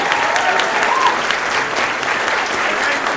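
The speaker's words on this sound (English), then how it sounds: "Let's give him one more round of applause." Steady, dense applause from a commencement audience at a graduation ceremony, loud and continuous throughout with no break in the clapping.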